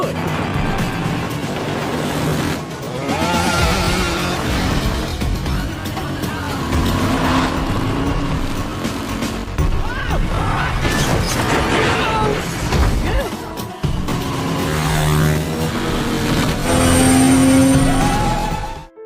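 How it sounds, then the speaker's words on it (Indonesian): Film car chase with engines and vehicle sounds under a music score, with a possible crash, plus speech-like voices throughout and no clear pause. "Hingga Prince pun yang menyetir mobil itu menyadari kalau Scott sedang mengejar mereka."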